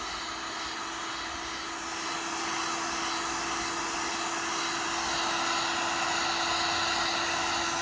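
A hot air gun blows steadily while heating solder paste on a game console circuit board during a repair, a continuous close, even airy roar with a faint high whine that swells slightly partway through.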